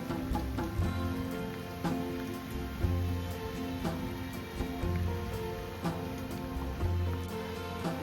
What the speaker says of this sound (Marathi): म्हणजे ह्याच बाजूला पाऊस चालू आहे